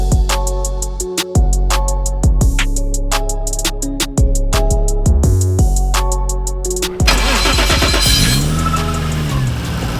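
A Toyota JZX90 sedan engine revving hard through repeated sharp rises and drops, loud and close, ending in a rougher burst of exhaust noise with a falling whine.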